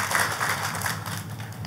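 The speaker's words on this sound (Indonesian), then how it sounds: "tepuk tangannya yang paling meriah buat Tuhan kita" A church congregation applauds during a sermon, a steady, moderately loud wash of clapping hands sustained throughout.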